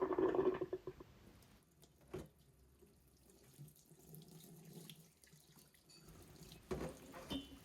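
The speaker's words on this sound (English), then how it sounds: "So I drain the sink and run some fresh water." Fresh water runs from a tap into a workshop sink ahead of rinsing Kawasaki S1 cylinder barrels, a faint, patchy trickle and splash with a stronger gush at the start and near the end, no speech.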